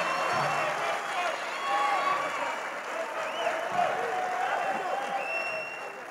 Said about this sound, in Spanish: un fuerte aplauso que se escuche